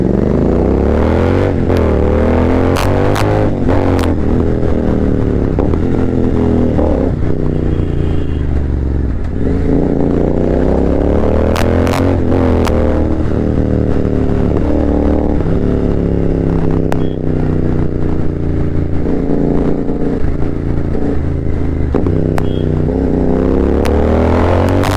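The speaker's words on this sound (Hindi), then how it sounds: "भाई अब थोड़ी सी बेसी नॉइज़ आ रही है इस बाइक में से" A Royal Enfield GT 650 motorcycle engine runs with a loud, deep, bassy exhaust note, revving and dropping in steady waves, close up and continuous with no talking.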